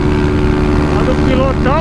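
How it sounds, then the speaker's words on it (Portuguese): A misfiring Honda Titan 160 motorcycle engine drones steadily up close, its tone wavering and briefly sputtering near the end, with voices partly audible over the roar. "O que tá acontecendo com essa moto, rapaziada? Tá dando uma falhada."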